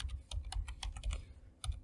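A computer keyboard is typed in a quick, steady run of close keystrokes, each a crisp tap, with a short pause before a final couple of presses.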